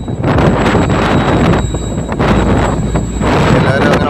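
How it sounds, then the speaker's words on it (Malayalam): Strong wind blasts across a fishing boat out on the Arabian Sea. It comes as loud, gusty buffeting against the microphone, surging and easing in waves with a rough low rumble underneath. "പകലായാലും രാത്രിയായാലും കാറ്റ് നല്ല രീതിയിൽ തന്നെ അടിക്കുന്നുണ്ട്"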